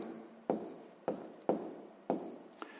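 A pen writes a math solution on paper, giving four distinct scratchy strokes at roughly half-second intervals and a lighter fifth tap, close and quiet with no talk.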